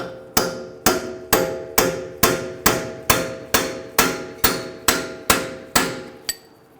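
A heavy-duty punch is struck with a hammer to free a stuck axle from the wheel hub of a 2010-2019 Ford Taurus, twelve loud, evenly spaced metallic blows with ringing decay, close and with no talking.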